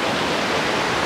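Water rushes steadily over rocks along a stony stream on the trek to Amakund, a dense, close, continuous broadband roar with no voices.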